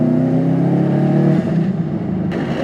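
A 2010 Subaru STI with a new downpipe and exhaust roars loudly and steadily under acceleration, a deep continuous exhaust drone that dips briefly before carrying on.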